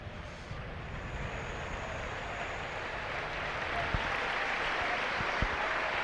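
A rugby league crowd at a 2005 Halifax v Castleford cup match applauds an injured player, a steady, broad wash of distant clapping from the stands that holds evenly for several seconds.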